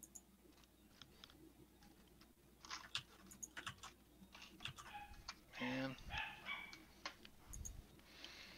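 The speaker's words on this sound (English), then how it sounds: "That's an excited dog." An excited dog barks and yips in short, faint bursts in the background of an electronics workshop, with sparse clicks and rustles around it.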